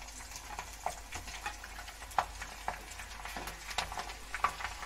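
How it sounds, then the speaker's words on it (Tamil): Garlic sautés in sesame oil alongside green chillies for a dry fish stir-fry, a faint crackling sizzle dotted with many small sharp pops and taps from stirring, all without speech. "போட்டுட்டு நல்லா வதக்கிக்கிறோம்."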